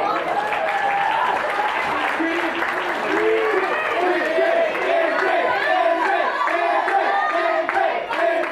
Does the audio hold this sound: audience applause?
yes